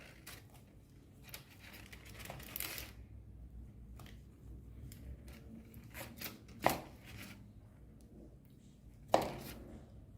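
A knife cuts through a Christmas plum fruit cake, giving soft scraping, crumbly strokes with a few sharper clicks near the end, close and fairly quiet with no talk.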